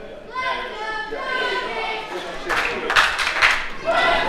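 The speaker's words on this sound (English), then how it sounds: "Great crowd on hand here for a Thursday night of action." Crowd clapping at a Des Moines pro wrestling show on a Thursday night, a spatter of claps rising into a louder burst of applause in the second half, with a commentator talking over the noise.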